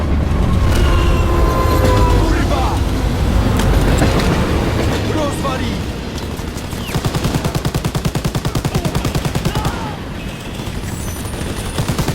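A train in the World War II shooter Call of Duty: WWII rumbles loudly on its rails, its wheels clattering in a fast steady rhythm through the second half, while gunfire bursts and shouting voices sound over the top.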